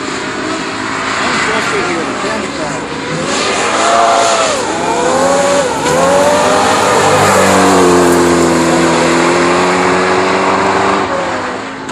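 Race car engine revving hard through rising and falling pitch sweeps, loud and steady, with slight ignition breakup in the tone and people talking over it.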